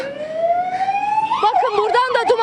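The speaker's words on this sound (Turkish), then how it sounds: "Arka arkaya itfaiyeler geliyor. Ambulanslar geliyor" Fire engines and ambulances race one after another into the city of Barda after a cluster bomb strike. A loud siren rises steadily, then breaks into a rapid warbling wail, with a voice talking over it.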